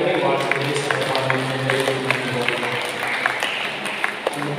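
A church congregation claps together in a dense, sustained burst of applause with scattered sharper claps, heard from within the crowd.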